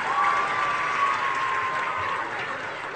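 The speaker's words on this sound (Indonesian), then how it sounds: "Tepuk tangan dulu buat dia." Applause from an audience at a charity gathering for orphaned children, steady broadband clapping sustained throughout at moderate loudness with a faint tonal whistle-like line early on.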